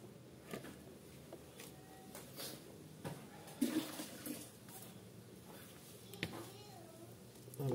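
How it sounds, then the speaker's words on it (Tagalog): Fabric being rinsed under running water after a rust remover treatment, splashing and trickling in uneven bursts with faint talk underneath. "try natin siyang banlawan"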